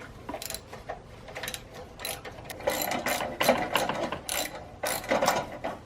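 Ratchet wrench loosening a turbo bolt on a Saab 9-3 Turbo X, quick repeated clicking strokes in short irregular bursts, close by and moderately loud, with no talk.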